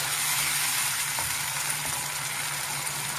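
Peas fry in oil in a pan, giving a steady, close hiss and sizzle with faint stirring clicks, no voices.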